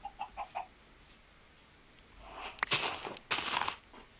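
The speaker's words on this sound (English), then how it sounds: "Found some chickens." Chickens cluck in the Minecraft video game, a quick run of four short clucks at first, then louder scuffling and clucking sounds near the end, with no talk.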